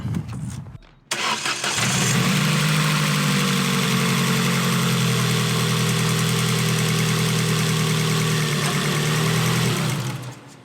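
A car engine after a cambelt change cranks briefly, catches and then settles into a loud, steady idle with a strong low hum that continues to the end.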